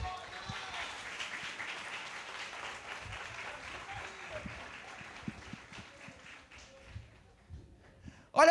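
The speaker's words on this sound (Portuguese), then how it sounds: "Aplauda Jesus" A church congregation applauds at a sermon, with a broad, even patter of many hands that gradually thins and fades toward the end, ending in a brief loud burst.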